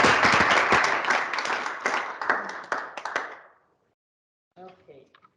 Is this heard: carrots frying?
no